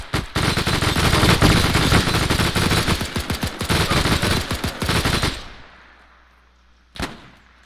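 A light machine gun fires long, rapid, loud bursts for about five seconds in Arma 3's World War II Siege of Carentan battle, then the battlefield quiets and a single sharp shot cracks out near the end.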